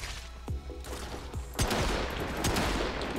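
Rubico sniper rifle fired in the video game Warframe: a few sharp, loud shots spaced about a second apart, each with a quick crack and echoing tail, over busy in-game combat noise.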